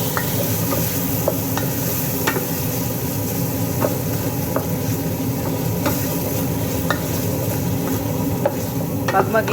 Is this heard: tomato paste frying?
yes